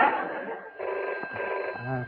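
Telephone ringing indoors on a 1998 TV special stage, a steady electronic ring lasting about two seconds, moderately loud, with a brief voice near the end.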